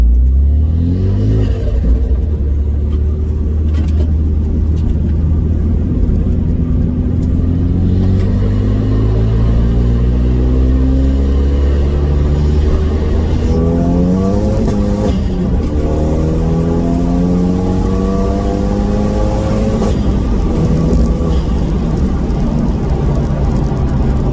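A Renault Megane RS250 built as a forged hybrid track car accelerates hard up a road bank, its engine note climbing steadily through the gears in a loud, sustained pull with rising harmonics and brief shift dips.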